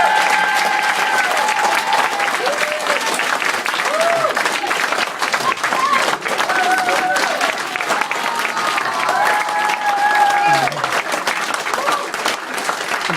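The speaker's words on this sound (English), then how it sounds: "Have a massive round of applause for Lou, please." Audience at a GOSS presentation giving a sustained, loud round of applause, dense clapping throughout with a few cheers and voices faintly mixed in.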